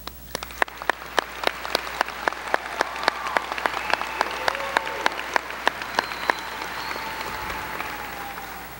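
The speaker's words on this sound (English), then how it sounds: "I would like to start by giving ourselves another round of applause." Graduates clapping at a high school commencement ceremony, scattered individual claps standing out sharply over a swelling crowd wash that builds and fills out toward the end.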